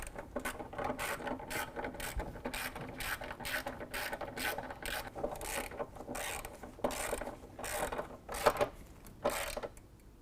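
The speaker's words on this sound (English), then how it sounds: "we're going to go ahead and tighten down our upper body mount bolts" A ratchet clicks in quick repeated bursts while tightening the upper body mount bolts into threaded body inserts on a 2018 Jeep Wrangler, steady mechanical ratcheting close up throughout with no talk.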